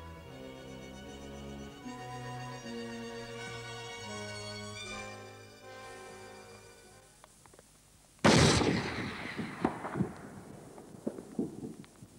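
A single rifle shot rings out during a seal hunt in East Greenland, a sharp loud crack after quiet, tonal music, followed by a rolling, decaying echo and scattered faint knocks.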